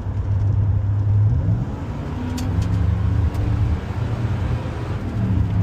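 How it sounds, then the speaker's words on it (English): A Ram truck's 5.7 Hemi with an Edelbrock supercharger accelerates hard: a loud, deep engine roar rises in pitch after a steady idle and holds a strong drone to the end. "we're gonna give it a little bit of a punch right here,"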